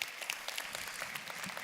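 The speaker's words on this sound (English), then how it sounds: "Yeah, you can applaud for that. That's worth applauding for." Convention audience applauds with dense, steady clapping from a large crowd, moderately loud and continuous with no talk over it.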